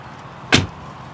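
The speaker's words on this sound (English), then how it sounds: "Iconic G-Class door closing sound" The door of a 2024 Mercedes-AMG G-Class Final Edition, a V8 model, closes with a single solid, heavy thunk, close by and brief, against quiet surroundings.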